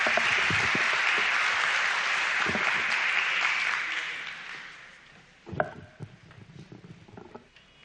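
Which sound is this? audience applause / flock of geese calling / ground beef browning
audience applause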